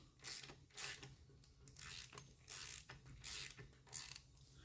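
A ratchet wrench tightens bolts on the engine of a 1977 K10 pickup, giving repeated short bursts of crisp clicking in a steady back-and-forth rhythm. It is close and clear, and no one talks.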